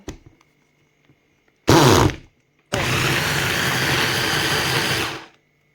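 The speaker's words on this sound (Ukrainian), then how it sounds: "І зараз я їх буду перебивати в блендері" A blender whirs loudly in two bursts, blending plums for satsebeli sauce: a short pulse followed by a longer steady run of about two and a half seconds, then cuts off.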